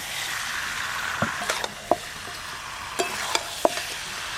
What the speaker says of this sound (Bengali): এবার মশলার উপর দিয়ে ভেজে রাখা চিংড়ি মাছ, আলু কুমড়ো সব একসঙ্গে দিয়ে দেবো।